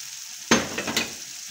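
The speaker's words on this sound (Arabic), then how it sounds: "نفس المقله في واحد الجهه غادي نزيد داك الكروفيت اللي قلنا حتى هي" Shrimp dropped into a frying pan beside other food, giving a sudden sizzle that swells into steady frying with a couple of stirring scrapes, close and fairly loud, with no talking.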